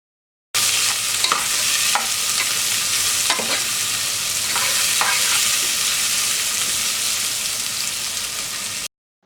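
Onions, curry leaves and green chillies sauté in hot oil and spices for a duck dish, giving a steady close sizzle broken by several sharp stirring scrapes against the pan.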